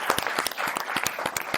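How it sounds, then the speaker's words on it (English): A crowd at a live event applauds for a guest's mother, a burst of dense, fairly loud clapping with distinct sharp claps standing out, lasting under two seconds. "let's get a round of applause for his mama showing up"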